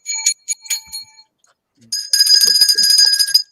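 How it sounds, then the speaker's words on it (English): A game-show bell sound effect rings out, with a few brief chimes at first followed by a sustained, bright, metallic ringing that dominates the second half, loud and close. "we got to get him to start off with some bells"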